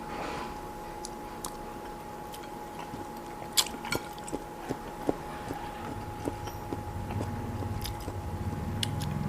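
Close, crisp bites and wet chewing of meatballs eaten with khanom jeen rice noodles in coconut curry sauce, irregular smacking crunches repeating over a quiet room.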